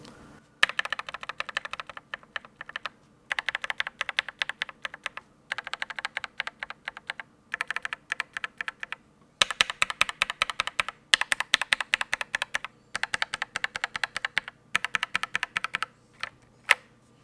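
Mechanical keyboard switches fitted with thick 3D-printed switch films, typed in steady bursts of rapid, crisp keystrokes separated by short pauses, close and clear with no talking.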